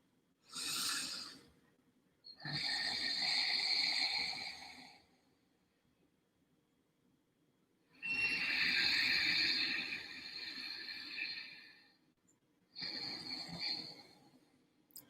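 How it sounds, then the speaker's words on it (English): Slow deep breathing with long drawn-out inhales, four separate airy breaths of several seconds each, close and clear with quiet pauses between them. "with deep breathing, I'm looking to extend my inhale as long as possible without choking myself out"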